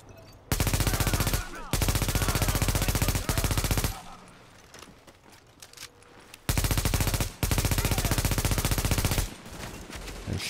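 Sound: gunfire in the video game The Division

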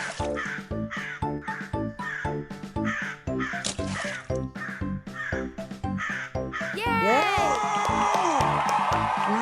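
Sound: crow cawing in a children's story

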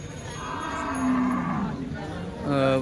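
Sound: cows at a cattle market

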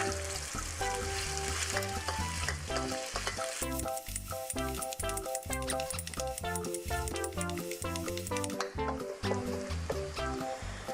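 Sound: stir-frying chili, dried chili and garlic in hot oil

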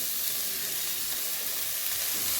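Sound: fenugreek leaves added to a hot pan, sizzling

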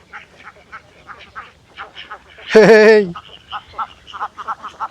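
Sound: ducks quacking in a village

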